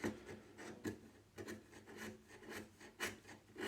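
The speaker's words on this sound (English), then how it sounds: "So I'm just carefully chiseling that down" A chisel pares down glued-up wood on an antique Atkins saw handle in close, quiet, scraping strokes that come in irregular bursts, several short rasps a second apart.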